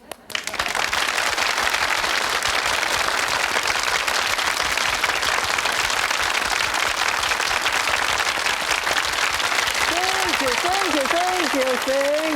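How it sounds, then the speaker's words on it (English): A television studio audience applauds at length, dense continuous clapping that fills the room, with a voice speaking over it near the end. "People applaud for 25 minutes"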